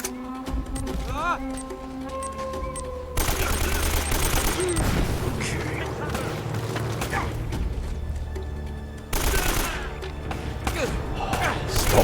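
Shotgun fire in the Uncharted action game, a dense run of loud, overlapping blasts and thuds that continues throughout, mixed with game effects and talk.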